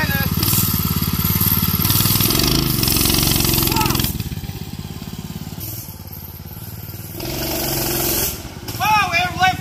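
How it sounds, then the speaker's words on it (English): A mini bike with a 212cc 7 hp engine doing a burnout, its motor roaring loud and close, dipping, then revving hard again while people talk over it. "I bet it'll do a burnout."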